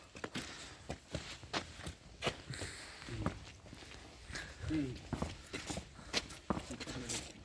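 Irregular hoof thuds and clops of a mare walking on firm ground, fairly close, with people talking intermittently over it.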